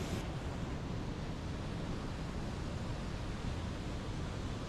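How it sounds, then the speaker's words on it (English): Roar of a waterfall heard while an FPV drone is flown, a steady, dense rushing wash of water that fills the whole clip at constant loudness with no talk over it. "Waterfall."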